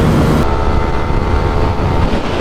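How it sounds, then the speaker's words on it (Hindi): Loud, close engine roar from a motorcycle drag race between a 2026 Yamaha R15 V4, Pulsar N250 and MT-15, a sustained rushing drone with a sharp change in tone partway through. "पर भाग बहुत तगड़ा रहा है भाई, बहुत तगड़ी बाइक भाग रही है"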